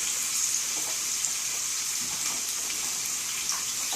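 Steady hissing sizzle of organic potatoes frying in a hot pan, continuous and close, with faint crackles and no voices.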